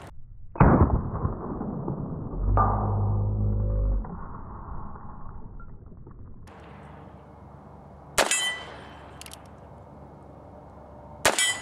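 .22 Magnum rounds are fired at targets outdoors: three or four sharp, loud cracks spaced several seconds apart, each with a short ringing tail, and a duller thump between them.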